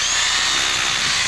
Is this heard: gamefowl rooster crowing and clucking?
no